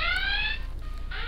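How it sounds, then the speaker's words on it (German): Electronic alarm tone in the PC video game Futurenet, a steady harmonic beeping tone that sounds for about half a second, drops out briefly, then returns over a low background hum. "Da hört ihr schon den Alarm."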